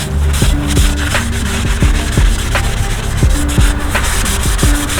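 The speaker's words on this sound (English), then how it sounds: "I'm gonna try and reclean this rotor" A brake rotor mounted on a first-generation Sequoia is scrubbed clean by hand, a close, continuous rasping rub with rhythmic strokes and faint metallic knocks throughout.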